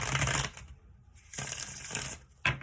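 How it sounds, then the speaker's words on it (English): Tarot cards being shuffled by hand in two broad bursts of riffling, papery noise separated by a pause, then a short final flick near the end. "So now I'm going to shuffle the cards"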